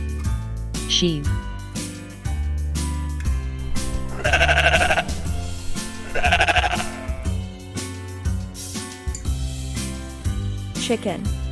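Sheep bleating at a farm over a bouncy children's song, with two strong bleats standing out mid-clip against steady music.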